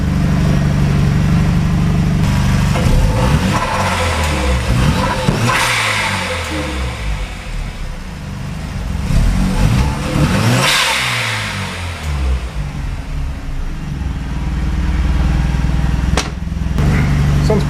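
A Mazda RX-7 FD Type RS rotary engine revs repeatedly at close range, rising and falling in loud bursts with brief idle stretches between throttle blips.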